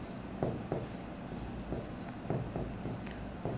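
Marker or chalk writing on a board during a Bengali accounting lesson: short scratchy strokes in irregular bursts, close and fairly quiet, with no talk over them.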